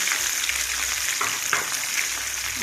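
Chana dal, urad dal, dried red chillies and garlic crackle in hot oil, making a loud, dense, continuous hiss up close with a few brief pops and stirs.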